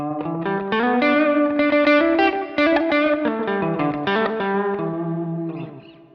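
Guitar played through a delay effect at tempo 140, with each note's attack doubled by the repeats. Rhythmic plucked chords ring with an echoing, chorus-like wash before they fade out at the end.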